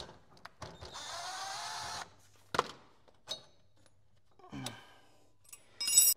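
A nut being removed from a bracket on a mower with a power tool: one sustained whirring burst, then several sharp clanks and metallic clicks, close and fairly loud with quiet gaps between.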